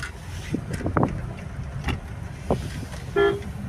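A short car horn toot sounds briefly near the end over a rumbling engine and road noise, with a few knocks and bumps earlier.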